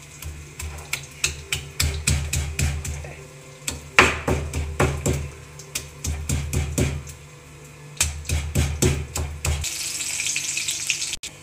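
Five garlic cloves, skin still on, are crushed in a home kitchen while making mango garlic thokku. Repeated sharp pounding knocks arrive in quick bursts with a brief pause between them, close and fairly loud.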